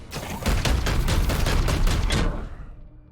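Rapid bursts of gunfire ring out in Warhammer 40K Chaosgate: Daemonhunters, a dense, loud volley of repeated shots lasting about two seconds before tailing off into a reverberant fade.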